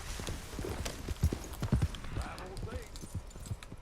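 Horse hooves clip-clopping at a steady, brisk rhythm in Red Dead Redemption 2, close and moderately loud, with someone talking over them.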